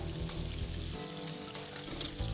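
Kofta fry in a pan with a continuous close sizzle and crackle, and a few brief bursts of spattering. Nobody speaks.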